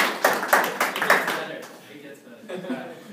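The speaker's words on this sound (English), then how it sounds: "Let's give a round of applause for that." A classroom group clapping briefly, a few sharp bursts of claps in the first second and a half that fade under a speaking voice.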